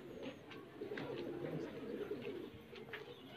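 Large high-flyer pigeons of an original bloodline cooing in a loft, soft repeated throaty coos layered over one another, faint and steady with no talk.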